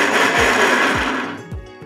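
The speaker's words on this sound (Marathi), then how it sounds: "आता आपण हा मिक्सरमध्ये थोडा फिरवून घेऊयात." A kitchen mixer grinder coarsely cracks wheat grains for kheer, a loud close whirring grind that cuts off partway, followed by a few soft knocks as the jar settles.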